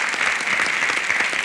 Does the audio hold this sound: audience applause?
yes